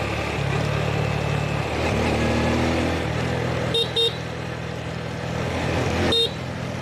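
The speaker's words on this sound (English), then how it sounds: "So it looks like we're doing some overtaking here." A car engine runs and shifts while overtaking in road traffic, with a few short, sharp horn toots near the end.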